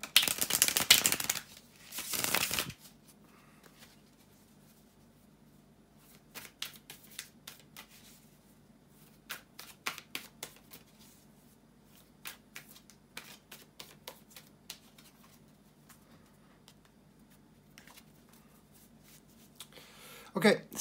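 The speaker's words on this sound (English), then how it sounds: "bear with me a couple of seconds, guys, to shuffle the tarot cards." Tarot cards being shuffled: bursts of riffling and quick flicking snaps, loud at the start then softer scattered shuffles, with occasional faint sounds at the end.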